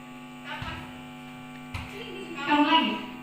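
An electric fan in a classroom gives off a steady, even hum that runs through the whole stretch, with a few brief louder noises rising over it.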